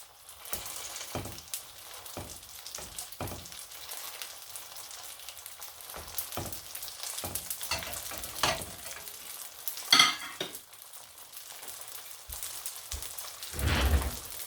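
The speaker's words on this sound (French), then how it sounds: "Là déjà la matière grasse ça sort, donc elle va frire comme ça." Msemen flatbread dough frying in a pan as its own fat renders out, a soft crackling sizzle with scattered pops and occasional handling knocks, fairly quiet.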